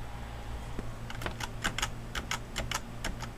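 Keys click on an HP AMD E-300 computer's keyboard in a quick irregular series of sharp taps over a low steady hum, with no talking.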